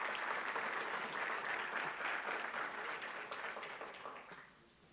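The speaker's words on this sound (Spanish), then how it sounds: "Pedimos un aplauso para el ingeniero Alfredo Bonín" Audience applause at an engineering conference panel in Mexico, steady dense clapping from a large room that holds strong for about four seconds and then tapers off near the end.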